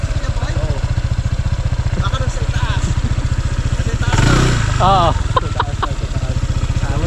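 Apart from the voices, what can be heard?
motorcycle engine idling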